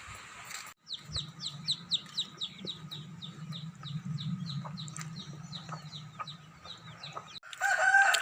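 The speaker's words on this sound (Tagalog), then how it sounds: "Maingay talaga ang manok." A rooster crows in a rapid repeated run of calls while chickens cluck and murmur underneath, fairly close, ending with a brief louder burst.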